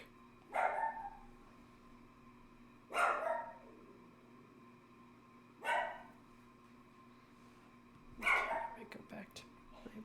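A small dog of about 14 pounds gives four loud, separate barks a few seconds apart, each sharp and close, against a quiet indoor hum.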